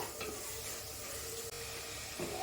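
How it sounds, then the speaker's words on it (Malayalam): Ivy gourd sautéing in a pan for a fish-less fish curry, a soft, steady sizzle with faint stirring scrapes running throughout, close by and fairly quiet. "അപ്പൊ ഈ കോവയ്ക്കൊന്ന് നന്നായി വഴണ്ടി വരട്ടെ"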